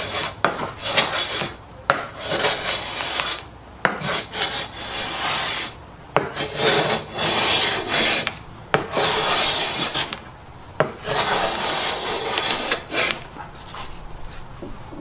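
A high-angle 55-degree frog hand plane, a Stanley No. 4 or MF 9, takes wispy shavings from quarter-sawn sycamore: repeated rasping strokes roughly every two seconds, each a close, scratchy swish separated by brief pauses, without speech.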